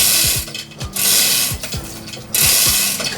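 A jack ratchets in quick bursts of clicking pawl strokes while lifting a rock crawler Jeep, the strokes close, loud and repeated several times with short pauses between them.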